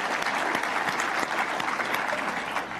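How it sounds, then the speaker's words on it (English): Audience applause in a university auditorium, a steady wash of many hands clapping at moderate loudness for a few seconds with no voices over it. "We can clap."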